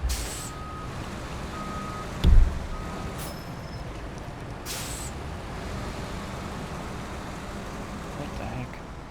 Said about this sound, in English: Yes, I do know how to back up a semi-trailer